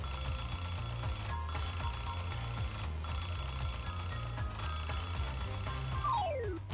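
Ringing clock boss enemies called Ring-a-Dings in Super Mario RPG on Switch, a loud continuous electronic alarm-bell jangle over steady game music, ending in a descending chiptune sweep.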